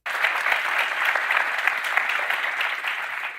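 Studio audience applause on a TV talk show, a dense steady wash of clapping filling the whole stretch at fairly close, even loudness with no talk over it.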